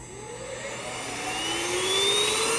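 UGREEN cordless car vacuum cleaner switching on and spinning up, its motor whine rising steadily in pitch and growing louder over a couple of seconds, with no talking.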